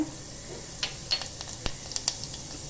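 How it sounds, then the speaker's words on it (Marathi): Cumin seeds crackling in a spoonful of hot oil in a pan, a faint soft sizzle broken by a quick scatter of sharp little pops and snaps. "जिरं छान तडतडलं"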